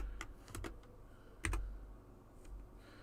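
Keys clatter on a computer keyboard in a few quick bursts with short pauses between them, close and fairly quiet, with no voices over the tapping.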